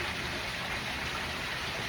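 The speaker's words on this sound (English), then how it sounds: "a heavy rain like this is, for obvious reasons, called a gully washer, in that it washes out all the gullies." A heavy spring rain, the first storm of the season, falls as a steady, even hiss, quiet and unbroken, with no voices over it.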